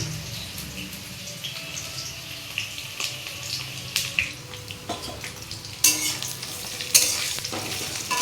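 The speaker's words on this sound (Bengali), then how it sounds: "আলু ভাজা বসিয়ে দিয়েছি" Potatoes frying in a pan, a soft, steady sizzle broken by sharper clinks and scrapes of stirring that grow louder toward the end.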